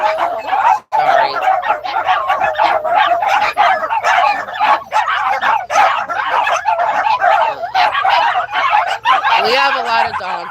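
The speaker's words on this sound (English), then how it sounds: "the dogs are barking right now" Several dogs bark, yip and whimper together in a house, close and loud in a constant overlapping chorus, while someone speaks over them.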